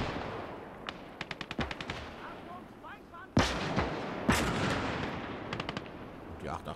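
Anti-aircraft and anti-tank guns firing in the WWII game Gates of Hell: a scattered series of sharp shots and bursts, with two loud booming blasts partway through and quick rattling volleys near the end, over a low battlefield rumble.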